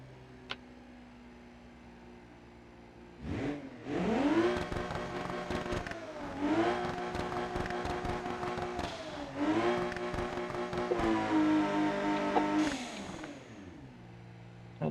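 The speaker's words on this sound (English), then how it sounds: "Oh, it does a burnout." A light old Holden Commodore VN or Ford Falcon EF does a burnout, its engine revving hard in repeated bursts with tyres squealing, loud and close after a quiet start.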